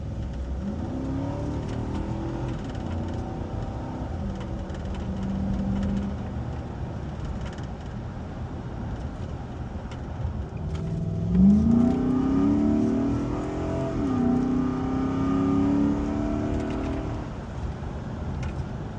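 A 2010 Nissan Armada V8 fitted with a K&N cold air intake revs steadily, its mid-range engine drone rising in two throttle sweeps toward the end, heard alone without talk.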